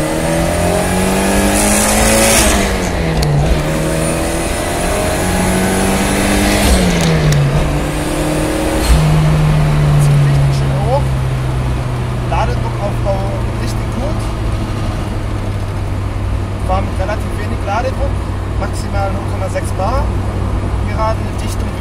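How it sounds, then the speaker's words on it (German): Ford Capri GT28 Turbo pulling hard at full throttle in second gear, engine note climbing steadily with a gear-change dip and then a sustained loud drone, with turbo whine audible and voices under it. "zweiter Gang Vollgas."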